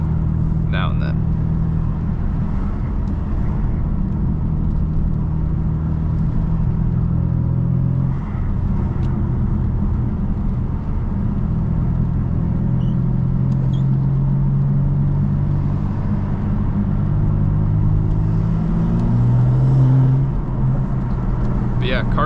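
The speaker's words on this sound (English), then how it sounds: "car sounds great without burbles" A Stage 1 BMW M4 engine drones steadily at low revs while driving in the rain, with a constant rumble and occasional rises in pitch, and a voice talks over it.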